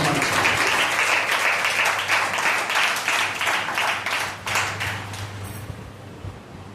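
A congregation at a fasting prayer meeting breaks into applause, a dense, sustained roar of many hands clapping together that fades out near the end, leaving a quiet room tone.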